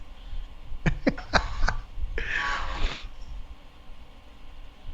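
A few sharp coughs in quick succession, close by, followed by a longer throaty, breathy rasp, then quiet room tone.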